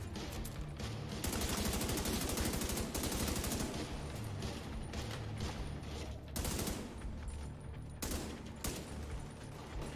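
Sustained machine gun fire in the video game The Division 2, a dense loud barrage of rapid shots running almost continuously, with brief gaps and shifts between bursts and no talking.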